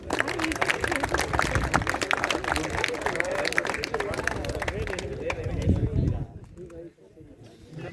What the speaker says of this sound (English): Let's clap for Namani.